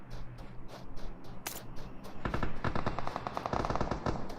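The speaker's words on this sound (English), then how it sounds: "Kui does take out Yugi with an M249" An M249 machine gun fires in the PUBG Mobile video game, a loud rapid rattle of automatic shots in sustained bursts that intensify partway through.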